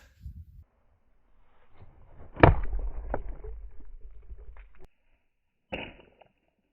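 A thrown chisel strikes a target with one sharp, loud smack, followed by a short rumbling rattle. Another brief knock comes a few seconds later against a quiet background.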